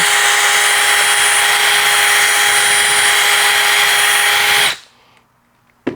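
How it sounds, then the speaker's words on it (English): A power drill with a wire brush cleaning a golf putter shaft whirs loudly and steadily for nearly five seconds, then cuts off, leaving near silence and a faint clunk at the end. "I've got a drill here with a wire brush on the end"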